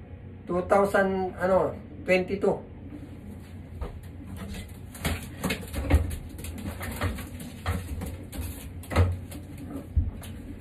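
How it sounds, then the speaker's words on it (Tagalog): Racing pigeons in a loft coo close by, giving a few rising, throaty calls at the start, while someone talks over the ongoing rustle and shuffling of the birds. "Kagandang kalapate."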